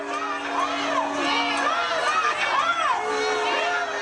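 A protest crowd with children among it, shouting and calling out together in a loud, sustained mass of raised voices with overlapping cries.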